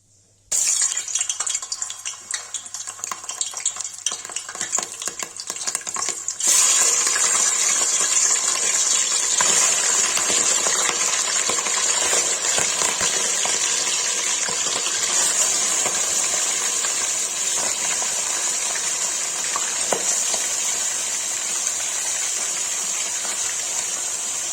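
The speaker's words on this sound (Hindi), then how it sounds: "मटन फ्राई के लिए रख दिया है" Mutton pieces sizzling in hot oil in a pan for a Kashmiri mutton masala, a loud steady hiss and crackle that jumps louder a few seconds in and keeps frying without letup.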